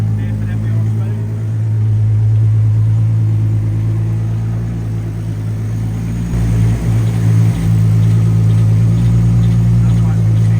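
A car engine runs steadily at a low idle-like drone while its front wheels spin and the rear wheels stay still, part of an OpenHaldex controller demonstration; a voice talks over the continuous hum throughout.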